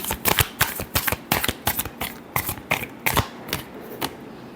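Tarot cards are shuffled by hand in a rapid run of crisp, separate riffling snaps, about a dozen sharp flicks in a loose rhythm, close and clear with no voice over them.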